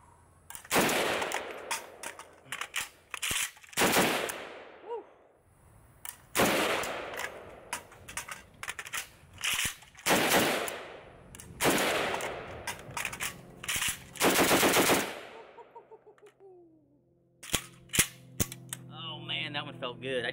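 Zastava ZPAP M70 AK rifle with stock trigger, gas and muzzle device fired outdoors in sharp bursts and rapid strings of shots, loud and close, with a magazine reload and metallic handling clicks near the end.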